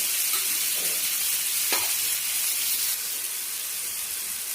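Chopped coriander and garlic cloves frying in a pan, a soft steady sizzle with a few scraping stirs of a spoon, close by and without talk.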